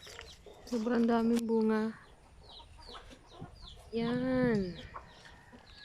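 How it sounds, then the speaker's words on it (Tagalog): A rooster lets out two drawn-out clucking calls a few seconds apart, close and fairly loud, with a person talking quietly in between. "Yan po ang manok ko, laki."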